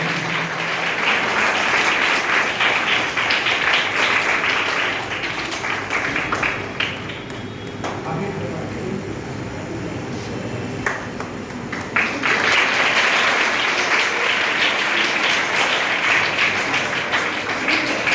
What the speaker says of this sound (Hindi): जोरदार तालियां प्रधानाचार्य महोदय के लिए